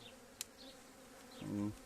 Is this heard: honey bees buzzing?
yes